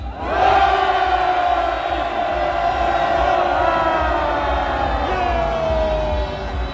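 Marchers at a Korean candlelight street march shout together in one sustained, loud, unison roar. The massed voices hold a steady pitch and ring on for several seconds, with slight wavering as the cry fades toward the end.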